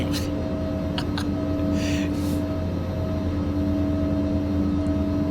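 Steady engine drone of an Embraer ERJ-135 regional jet in X-Plane 12, a constant tonal hum with a few faint clicks and brief hissy bursts over it.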